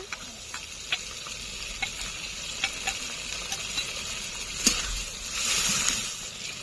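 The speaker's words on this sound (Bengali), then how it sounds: "আদা রসুন দিয়ে কিছুক্ষণ নেড়ে নিয়েছি এবার দিয়ে দেব শুকনো লঙ্কা বাটা জিরে বাটা" Ginger-garlic paste with dry chili and cumin paste frying for a mutton curry, a low steady sizzle with light periodic scrapes and taps of a spoon, then a brief louder hiss near the end.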